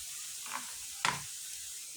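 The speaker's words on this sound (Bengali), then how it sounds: "এখন আমার পেঁয়াজটা প্রায় লাল লাল হয়ে গেছে। এখন আমি" Hot oil with browned onions sizzles softly as vegetables are tipped into the pan. A steady faint hiss carries one brief sharper burst midway.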